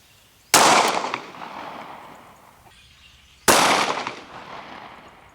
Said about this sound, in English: First up is 380 ACP out of our Ruger LCP2 full metal jacket.